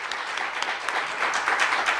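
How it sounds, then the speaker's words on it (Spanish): A church congregation applauds together during a Christian worship service, a dense, steady wash of many hands clapping at moderate loudness, with no clear voices on top. "Aplaudan al Señor ahora, ya, vamos."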